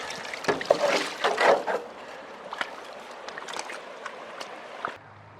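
Water washes gravel through a small gold sluice at Nundle, rushing and splashing unevenly in close bursts, loudest early, then settling into a steady trickle with occasional knocks before cutting off.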